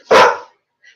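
A single loud, close dog bark, short and sharp, is followed by silence and a faint trailing squeak.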